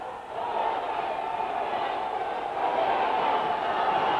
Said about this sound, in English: Listen to the crowd, they're going wild.